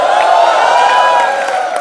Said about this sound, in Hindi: नरगिस के लिए एक बार जोरदार तालियां हो जाए